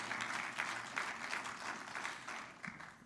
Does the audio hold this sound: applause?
yes